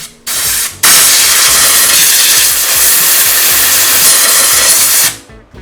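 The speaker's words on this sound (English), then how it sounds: "I blew the small metal shavings out of the hub." Compressed air blasts loudly and continuously into a Ducati Multistrada 1260 Enduro rear wheel hub, clearing metal shavings; a short burst, a brief pause, then a long steady hiss that cuts off sharply.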